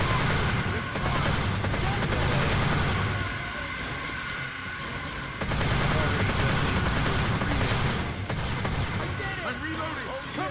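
Earth Defense Force 2017 gameplay fills the air with sustained automatic gunfire and rapid volleys against alien attackers, continuous and dense with a short lull midway, while game voices shout over the shooting.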